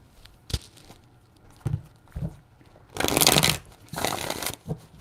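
Tarot cards being shuffled by hand during a reading, several short riffling and tapping bursts with a longer, louder shuffle in the middle, close by with no talk over it.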